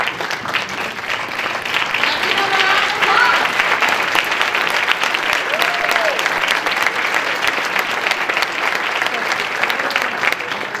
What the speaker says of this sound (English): Let me have a round of applause.